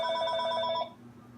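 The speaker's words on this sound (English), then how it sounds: "Another stupid phone call." A telephone rings in a guitar repair workshop, a close, clear bell-like trill with rapid pulses that lasts under a second before cutting off into quiet room tone.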